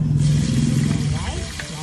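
Onion and tomato sautéing together in a pan for chicken afritada give a loud, close, continuous sizzle that lasts the whole moment and fades slightly near the end.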